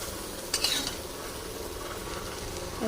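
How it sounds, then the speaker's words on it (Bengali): Ground spices frying with pumpkin and potato in a pan, stirred steadily with a little water: a soft continuous sizzle and a brief clink of utensil against the pan, with no speech. "গুঁড়ো মশলাগুলো কষিয়ে নেব ভালো করে"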